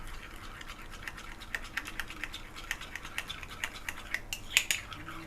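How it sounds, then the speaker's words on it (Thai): Eggs are whisked in a bowl with crispy batter flour and water, a fast, scratchy clicking of the whisk repeating steadily up close, growing slightly louder near the end. "ตีให้ละเอียดนะคะ"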